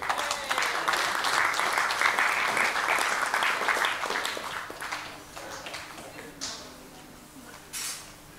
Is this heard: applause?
yes